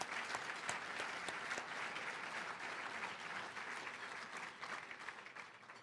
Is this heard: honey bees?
no